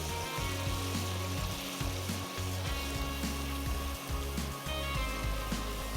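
Onion paste frying in a pan on the stove, a continuous close sizzle with bubbling crackle and occasional stirring scrapes, steady throughout and without talk.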